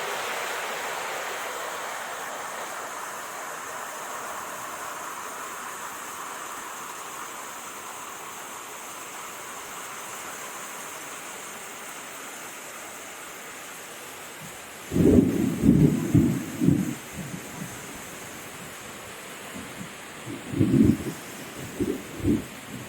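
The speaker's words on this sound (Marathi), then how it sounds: "आणि हे बघा फायनली केवढा मोठा पाऊस आलाय." Heavy monsoon rain pours steadily as a continuous hiss over farmland in a Konkan village, then low, rumbling bursts of thunder roll in during the last several seconds, loud and close, with no one speaking.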